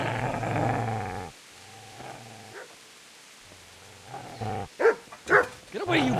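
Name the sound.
dog growling and barking in Kingdom Come: Deliverance video game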